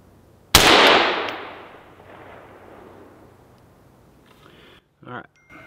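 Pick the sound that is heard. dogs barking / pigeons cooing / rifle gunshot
rifle gunshot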